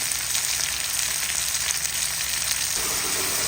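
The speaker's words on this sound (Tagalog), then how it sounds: "Ginigisa ko na po ang ating manok, bawang at ang sibuyas at pati na rin po ang ating luya." Chicken, garlic, onion and ginger sautéing in a pan with fish sauce, giving a steady, close, even sizzle and crackle for the whole stretch, with no one talking.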